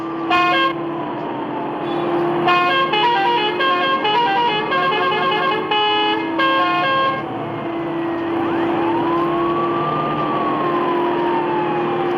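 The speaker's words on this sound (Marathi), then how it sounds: "हॉर्न दिल्याशिवाय ना कळतच नाही." Several vehicle horns honk in busy traffic around a bus, short blasts and a few longer held tones overlapping, with steady engine and road noise underneath and a siren-like wail near the end.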